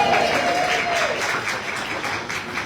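Audience at the Cooly Rocks On 2024 pinup pageant applauds and cheers a finalist, a steady wash of clapping filling the whole stretch with a brief whistle or shout rising early on.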